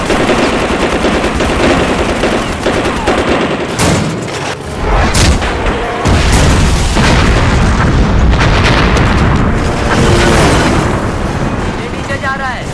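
Movie-style battle effects of dense automatic gunfire and heavy booming explosions roll on loud and almost without a break, with a few sharp blasts and shouted voices mixed in.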